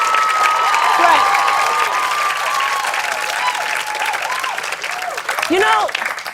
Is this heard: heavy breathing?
no